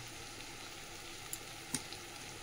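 Spices with tomato and green chili paste frying in a pan, a steady soft sizzle throughout with a couple of brief sharp pops near the end, no voices.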